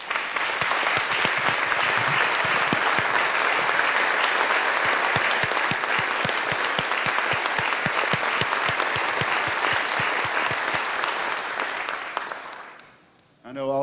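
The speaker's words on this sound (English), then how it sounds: "let's give a round of applause" A large crowd at a gathering gives a long, dense round of close applause, which holds steady for about twelve seconds before quickly dying away.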